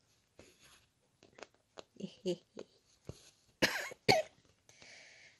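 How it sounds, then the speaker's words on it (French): A baby coughing in a series of short bursts, soft at first, then two louder, harsher coughs close by, with a breathy sound at the end. "j'ai bébé qui tousse"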